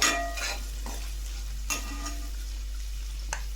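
Cooked vegetables are stirred in a pan under a low, constant hum, with a soft sizzle and a few sharp scrapes and clinks of a spoon against the metal.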